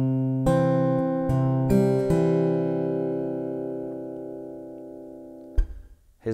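A fingerstyle acoustic guitar plays a first bar with the thumb picking the bass strings: a few plucked notes and chords ring out and slowly fade, with no voices.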